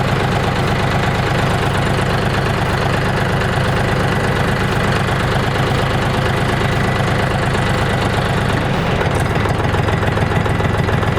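A DTZ 354U tractor engine idles cold, a loud, steady low-pitched diesel rumble with a continuous knocking rhythm and no talking.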